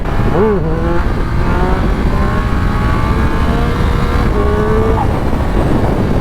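A Triumph Speed Triple RS 1200 motorcycle accelerates hard through its gears, heard loud and close. The engine note climbs and drops at each shift, with a steady wind rush underneath throughout.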